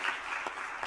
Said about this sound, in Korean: 우리 박수 한번 해줍시다.